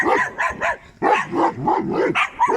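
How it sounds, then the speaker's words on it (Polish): A stray dog gives a run of repeated barks and yips, close and fairly loud, in quick uneven bursts with short gaps between them. "Ładny jesteś piesek."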